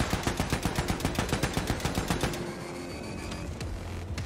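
A loud, fast stream of automatic gunfire in Wolfenstein 2, evenly spaced shots for a couple of seconds, then tailing off into rumbling game ambience with no talking.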